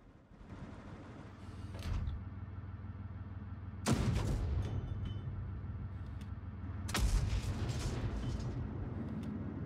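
Three heavy tank cannon blasts from the game World of Tanks Blitz, each a sharp boom followed by rumbling mechanical clanks and creaks, spaced a few seconds apart.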